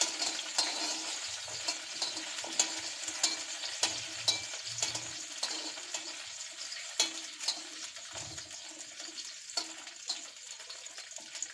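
Food sizzles and frays in a hot pan while a utensil stirs and turns it, with a steady hiss and repeated scraping clicks close by, with no talking.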